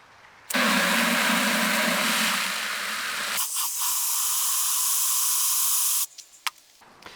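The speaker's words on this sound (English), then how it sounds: "First, I'll take my degreaser and generously spray down the drivetrain" Degreaser sprayed generously from a pump bottle onto a bicycle chain and drivetrain: one long, loud, steady hiss lasting several seconds that shifts tone partway through as the nozzle is aimed differently, then stops, followed by a few small clicks and drips.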